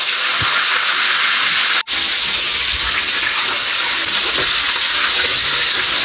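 Deboned meat frying in hot cooking oil, a loud steady sizzle and hiss close up that runs continuously, broken once by a brief dropout, with no one talking.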